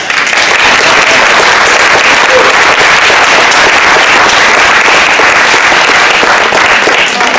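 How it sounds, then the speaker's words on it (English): Loud, sustained applause from a large audience at a reading, dense steady clapping filling the whole stretch without pause. "So another round of applause."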